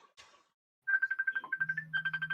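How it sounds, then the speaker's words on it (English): A telephone rings with a rapid warbling electronic tone in repeated pulsing bursts, close and clear, preceded by a brief murmur of voice. "And the phone rings."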